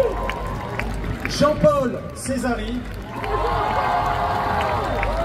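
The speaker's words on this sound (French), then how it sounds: "je vous demande, s'il vous plaît, d'applaudir très très fort Dominique Moncinelli" A festival crowd at a Japanese pop-culture event applauds and cheers for introduced singers, a steady wash of clapping that swells in the second half while someone speaks over it through a loudspeaker.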